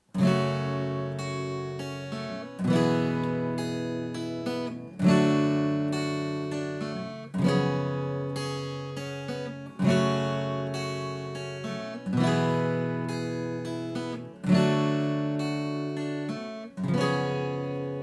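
Strummed guitar chords from the intro of a song ring out in a steady rhythm, one strum about every two and a half seconds, each decaying before the next, with no voices.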